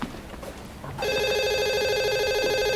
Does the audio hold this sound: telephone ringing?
yes